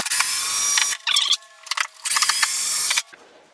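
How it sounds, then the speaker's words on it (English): Electric screwdriver backing screws out of a bathroom vanity whines loudly in two long bursts, separated by short clicks and a brief higher rattling run, then stops. "Or you can use an electric screwdriver just to take the screws out."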